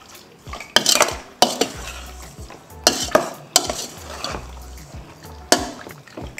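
Mutton pieces stirred with turmeric powder in a pot for kuzhambu, a spoon scraping and clanking against the metal in several sharp strokes with softer shuffling between them, close and distinct, no voices.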